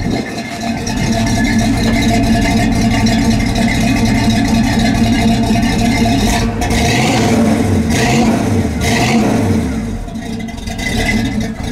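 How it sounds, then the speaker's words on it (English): A 1974 GTO engine idles and revs through its dual exhaust with a deep, rumbling throb, steady and close, with occasional rattles and faint voices underneath. "just check out what that dual exhaust sounds like"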